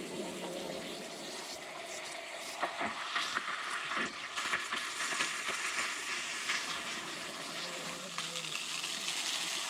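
Water from a hose runs into a chicken water tank on a farm, making a steady hiss and splash with small clanks now and then. A person talks faintly at times.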